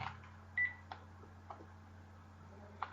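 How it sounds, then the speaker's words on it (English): A house telephone gives off a single short electronic tone, a clear beep heard nearby over a steady low hum, followed by a few faint clicks. "my house phone went off"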